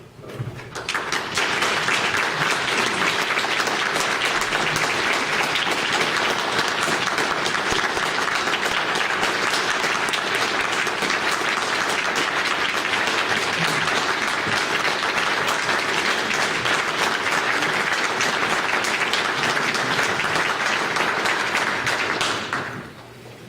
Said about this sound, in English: He's getting a lot of applause, isn't he?